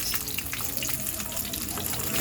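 Milkfish (bangus) fries in a pan with a dense, continuous crackling sizzle. The spattering pops sit close and steady throughout, with no one speaking.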